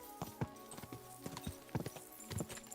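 Horse hooves clip-clop in a steady walking rhythm in the video game Kingdom Come Deliverance, soft and even, with no talk over them.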